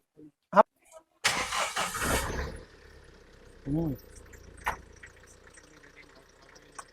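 An SUV engine is started with the key, a short cranking whir catching into a quiet idle, followed by a faint hum with brief voices and small clicks nearby.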